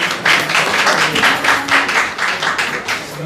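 Audience at an Urdu mushaira in London applauding, a dense patter of many hands clapping close by, rising and falling in waves and sustained throughout.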